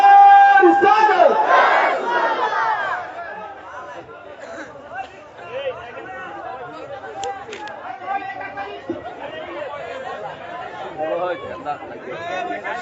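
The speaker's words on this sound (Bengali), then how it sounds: "সবাই বলি নারে তাকবীর, নারে রিসালাত" A crowd at a religious gathering shouts a call-and-response chant of Nara-e-Takbir and Nara-e-Risalat, loud and close at first, then settling into ongoing crowd murmur and voices.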